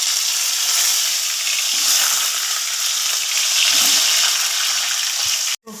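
Potatoes fry in hot oil in a kadai spiced with bay leaf and cumin seeds, a steady close, loud broadband sizzle running throughout with a brief break near the end.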